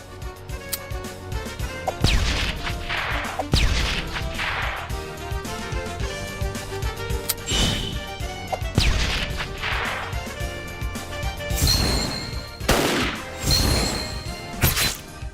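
Team sync attack in the tactics game Metal Slug Tactics: a dense run of loud smashes, whacks and whooshing swipes layered over game music, with sharp bright hits recurring every couple of seconds.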